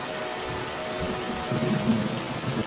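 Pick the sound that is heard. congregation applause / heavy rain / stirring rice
heavy rain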